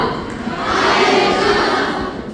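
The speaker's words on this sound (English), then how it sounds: "Can we have a round of applause?" An audience at a teaching event applauds and cheers as a guest is welcomed to the stage, a dense, steady wash of clapping and shouting voices that swells in the middle and continues throughout, fairly loud and near.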